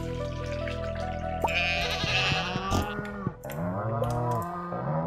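Sheep in Stardew Valley bleat repeatedly in wavering, nasal cries, several overlapping calls up close with a brief pause between bursts.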